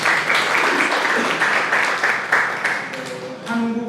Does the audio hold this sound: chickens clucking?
no